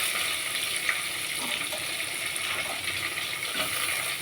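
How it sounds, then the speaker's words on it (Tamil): Onions sautéing in hot oil with fennel seeds and curry leaves give a steady, close sizzle and crackle, with faint stirring and scraping in the pan and no talking. "கருவேப்பிலை பொரிஞ்சிருச்சு, வெங்காயம் போட்டு வதக்கலாம்"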